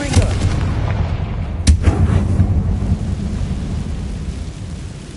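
Confringo fire spell from Hogwarts Legacy bursts into a sharp, booming explosion near the start, its rumble rolling on over a steady low roar of game ambience with no talk.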